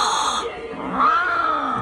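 A Halloween decoration cat toy lets out an electronic meow that rises and bends into a drawn-out yowl, close and fairly loud.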